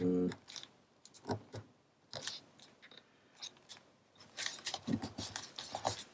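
Scissors trim paper for a scrapbook page, giving several crisp, close snips in irregular bursts, a quick flurry of cuts near the end, with quiet pauses between.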